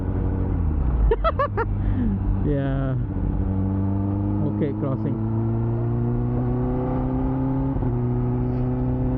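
A 2021 Kawasaki ZX-10R fitted with an Akrapovic exhaust drones steadily close by, its engine note climbing in a sustained rev with a rising whine, while someone talks briefly over it in traffic.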